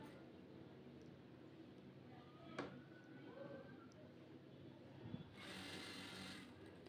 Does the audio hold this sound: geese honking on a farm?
no